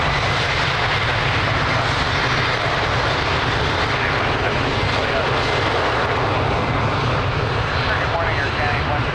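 A plane taking off from runway 02 at Lisbon Airport gives a steady, loud engine roar that fills the whole stretch, with air traffic radio voices talking underneath.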